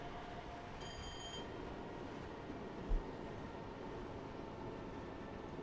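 A Queensland Rail electric multiple unit runs on the rails near Fortitude Valley, giving a steady loud rumble with a short high whine early on and a brief thump partway through.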